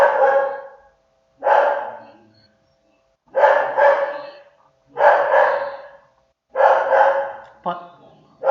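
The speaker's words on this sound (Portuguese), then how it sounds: "desculpa, Felipe, minha cachorra tem uma voz muito intensa." Dog named Frida barking in loud, separate bursts of several barks each, close up, with gaps of silence between and a faint whimper near the end.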